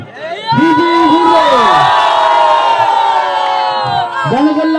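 A crowd at a football tournament prize ceremony cheers and shouts loudly, a dense roar of voices with rising whoops, close and sustained, with an announcer's voice over it.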